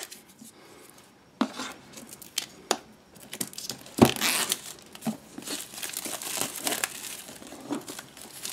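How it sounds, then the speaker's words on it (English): Plastic wrap on a Moto 360 box is sliced and peeled away with a box knife, giving close crinkling and tearing with sharp snaps and scrapes. "take a box knife and get the plastic off of it"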